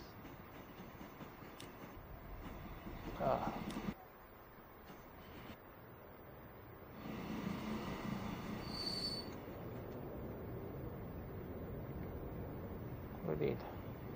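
Train sounds in the Transport Fever 2 game on PS5: soft rolling rail noise with brief wheel squeals, fairly quiet and continuous, with a man muttering briefly over it.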